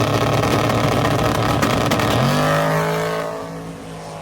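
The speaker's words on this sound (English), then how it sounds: "this is the sister car to Graham Hayes's" Street-legal drag race car making a fast pass at Drag Week 2025, a loud, harsh engine roar at full throttle that holds steady and then shifts and fades as the car pulls away, with no talking.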